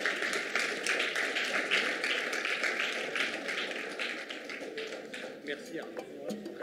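Audience applause at a French literary talk event, a steady wash of many hands clapping for several seconds, dense and fairly close, gradually thinning toward the end.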